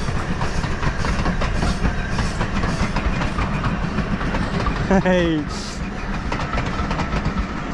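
A passing train with many carriages rolls by close at hand in the countryside, a steady loud rumble with rhythmic clickety-clack of wheels, a brief squeal partway through, and a short spoken exclamation over it.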